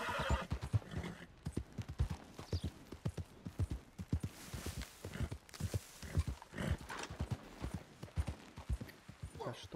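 A horse in the video game Red Dead Redemption 2 gallops with rapid, steady hoofbeats and lets out a whinny, the pounding rhythm continuing throughout.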